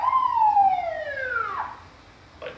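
A wailing emergency siren sweeps downward in pitch and fades over a couple of seconds, loud and fairly close, with a brief clatter at the end; it comes from an ambulance at a tornado-destroyed site in Hesston, Kansas.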